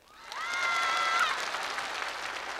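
Korean variety show audience claps again in a short round after a brief cheer or whoop rings out near the start; the clapping stays moderate and steady to the end.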